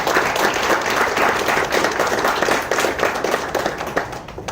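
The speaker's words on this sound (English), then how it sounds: "I'd like to give them a round of applause." An audience at a Formula UBC race car unveiling gives a round of applause for sponsors, a steady, fairly close wash of many clapping hands with no talk over it.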